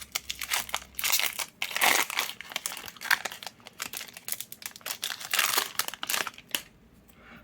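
A Pokémon card booster pack is opened by hand, close and crisp, with a run of crinkling foil wrapper and tearing bursts that come in uneven waves before stopping.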